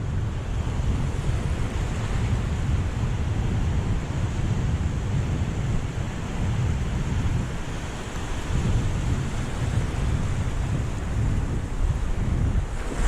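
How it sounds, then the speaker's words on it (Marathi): Steady roar of sea surf washing onto the shore in a stormy gale, with wind buffeting the microphone throughout; continuous and fairly loud, no voices. "लाटा भरपूर आहेत"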